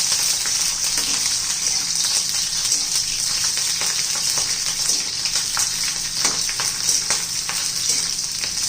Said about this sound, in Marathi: मोठे मोठे कांद्याचे काप केलेले होते असे तेलात परतून घ्यायचे